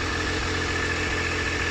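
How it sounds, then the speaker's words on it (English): A Triumph Daytona 955i motorcycle with its standard exhaust idles steadily while warming up, a constant mid-pitched engine drone heard close and alone. "So that's a standard exhaust running."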